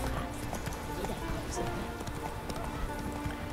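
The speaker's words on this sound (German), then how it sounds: "So, reiten wir eben mal mit Plötze den Berg hoch." Roach, the horse in The Witcher 3: Wild Hunt, gallops uphill with a steady, rapid clip-clop of hooves throughout. Someone talks over it in German.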